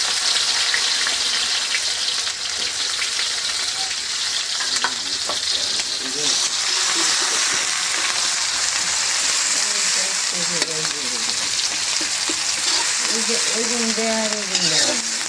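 Chopped onions frying in a hot pan during home cooking, a loud, steady sizzle with stirring that runs the whole time while a voice talks over it in the latter half.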